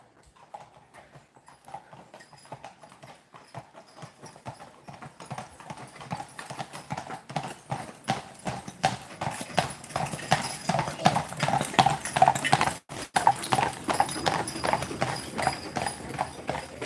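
Several horses clip-clop along the streets of Mackinac Island, their hooves beating in a steady, overlapping rhythm that starts faint and grows louder and nearer, with an occasional whinny and faint voices in the background.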